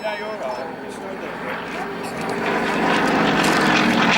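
Propeller aircraft of the Aerostars aerobatic display team perform over the airfield at the 2013 Cosford airshow. A steady engine drone swells louder toward the end, with a voice faintly audible beneath it.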